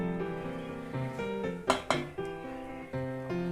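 Milk pongal is stirred in a pan over a low flame, with a few metallic clanks and scrapes of a spoon against the pan under steady background music.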